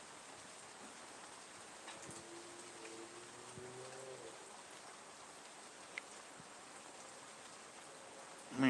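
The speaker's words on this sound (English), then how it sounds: "If I don't say anything, can you hear the rain?" Heavy rain falls outdoors as a steady, faint hiss of drops, continuous and even, with a few soft distant tones and clicks under it.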